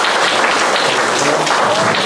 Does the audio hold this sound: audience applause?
yes